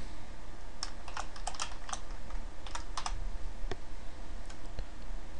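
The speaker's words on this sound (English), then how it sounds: "some of you are chuckling at my typing" Typing on a computer keyboard, clusters of quick crisp key clicks in short irregular bursts with pauses between, close and fairly quiet over a faint room hum, no talk.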